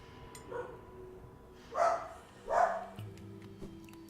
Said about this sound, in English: Dog is loud.